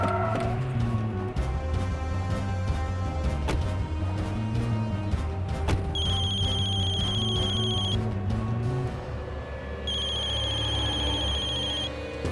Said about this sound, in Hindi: शुक्ला जी का फोन है।